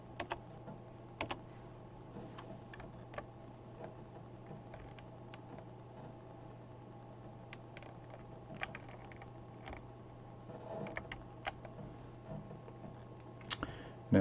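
Someone types on a computer keyboard in soft, scattered clicks and short bursts over a low steady hum, with the keystrokes sitting quiet and close.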